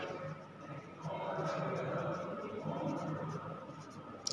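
A pen scratches continuously across paper, writing and ruling a line while a flexible budget format is drawn up, a soft steady scraping close by with a voice talking over it.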